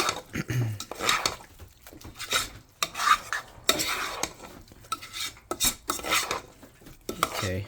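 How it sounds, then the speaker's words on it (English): Kraft macaroni and cheese is stirred in a pot, with a spoon scraping and clinking against the metal in uneven bursts, close and fairly quiet. "And let's stir this up."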